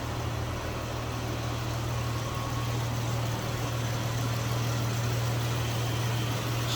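A 2020 Chrysler 300 S sedan engine runs at a smooth, steady idle, giving a constant low hum with no change in rhythm and no talking over it.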